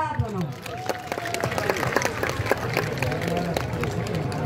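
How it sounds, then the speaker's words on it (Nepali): An audience at the World Social Forum in Nepal claps in thanks, dense sustained applause from many hands throughout, with crowd voices and a speaker heard underneath. "सबैले सबैलाई एकचोटि मजाले ताली पिटेर"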